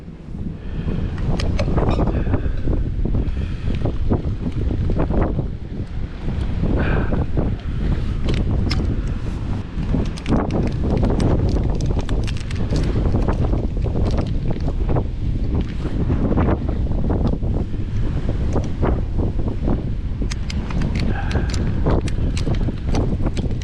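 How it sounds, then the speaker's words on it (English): Strong gusty wind on Maryport Pier, Cumbria, at night buffets the microphone continuously, a loud rumbling roar with rattling and flapping noises throughout. "Oh, it's windy."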